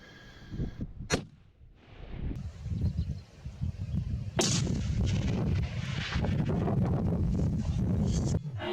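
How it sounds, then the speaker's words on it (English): A single loud rifle shot while hunting on a windy ridge, a sharp crack followed by a rolling echo, then gusts of wind buffeting the microphone. "got a shot away obviously"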